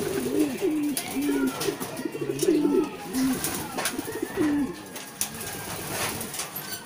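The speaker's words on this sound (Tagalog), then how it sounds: "Napakagandang ibon to." Pigeons in a loft give repeated rolling coos throughout, close and fairly loud, with someone speaking briefly at times beneath them.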